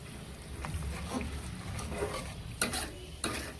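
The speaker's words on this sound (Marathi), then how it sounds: "हे साय लाल ब्राऊन झाली ना तर आपलं तूप रेडी आणि असं सारखं फिरवत राहायचं" Milk skin cream being stirred in a hot pan to render homemade ghee, giving a soft steady sizzle with faint scraping strokes and a couple of sharper utensil clicks near the end, no voices.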